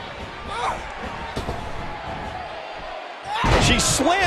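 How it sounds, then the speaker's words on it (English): A wrestler body-slams an opponent in the WWE 2K18 video game, with a heavy thud toward the end over crowd noise and commentary chatter. "Slams her down with great force."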